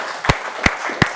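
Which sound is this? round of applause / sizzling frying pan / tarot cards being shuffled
round of applause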